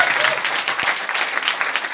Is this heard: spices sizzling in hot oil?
no